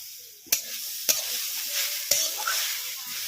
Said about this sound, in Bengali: কড়াইতে দিয়ে দিচ্ছি কুড়ানো নারকেল।